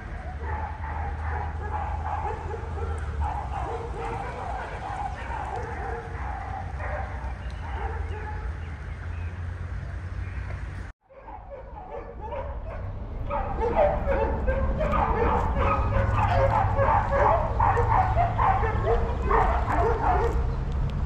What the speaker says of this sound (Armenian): Դեսից միշտ հաչում են շները